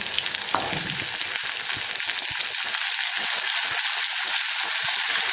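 Turkey berries, shallots and curry leaves sizzle steadily as they sauté in hot oil, a continuous close frying hiss with occasional stirring scrapes, no talking.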